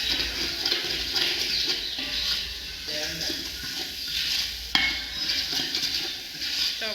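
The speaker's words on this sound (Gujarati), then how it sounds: "જો દાળનો વઘાર કરી નાખ્યો" Dal being tempered in a pot, the hot seasoning hissing and sizzling steadily up close while someone talks over it and utensils clink now and then.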